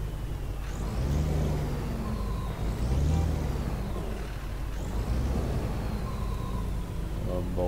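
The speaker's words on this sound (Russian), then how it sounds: "Обалдеть, она рычит." A Volvo FH16 540 truck in Euro Truck Simulator 2 drones with a deep, steady engine rumble that rises and falls in pitch as it accelerates, with someone talking over it.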